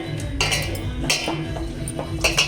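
A spoon stirs marinated prawns with vinegar and soy sauce in a bowl, giving repeated light metallic clinks and scrapes against the dish at a steady hand-mixing rhythm, close by.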